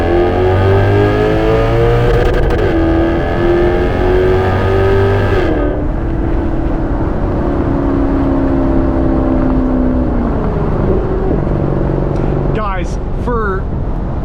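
Porsche convertible engine pulls strongly in a rising rev that drops with a gear change, then settles into a steady cruising drone, loud and close from the cabin, with someone talking over it.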